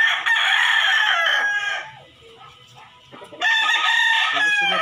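Crossbred chickens and roosters on a small poultry farm, with loud close crowing and clucking that dips into a quieter lull mid-way before rising again.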